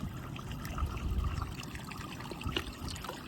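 Clean rainwater trickles along a channel in a steady, close, low gurgling flow with a few brighter splashes, and no voices.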